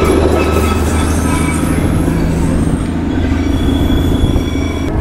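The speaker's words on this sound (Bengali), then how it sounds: "আর সামনে থেকে এখন দেখো টয় ট্রেন আসছে" Darjeeling toy train passing close by on a mountain road, a loud, steady rumble of rolling wheels with high metallic squealing sustained throughout.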